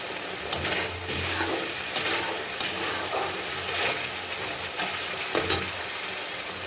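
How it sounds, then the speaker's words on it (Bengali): Paneer sautéing in hot oil in a pan, a continuous crackling sizzle broken by repeated scrapes and clanks of a spatula stirring the cubes, close up and fairly loud with no voices. "পনিরটা দিয়ে দিলাম, এর সঙ্গে একটু কষিয়ে নিচ্ছি"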